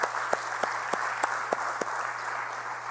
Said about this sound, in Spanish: podemos darle un aplauso al Señor, aleluya